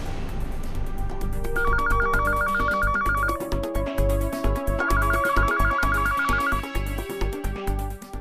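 Telephone ringing in a Hindi drama series scene, two bursts of a trilling electronic ringtone over background music, close and clear with no speech.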